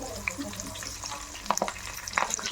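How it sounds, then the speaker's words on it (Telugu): Green chillies frying in hot oil for an egg biryani, a steady low sizzle with a few sharper crackles and spatters near the middle and end. "ఇలా తీసుకున్న తర్వాత ఆయిల్ యాడ్ చేసి వేడయ్యాక పచ్చిమిర్చి"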